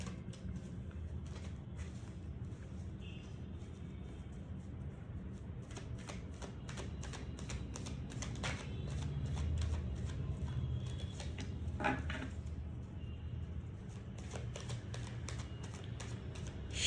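Tarot cards shuffled by hand: a steady stream of quick, soft riffling clicks and flutters, close and fairly quiet, continuing with no voice.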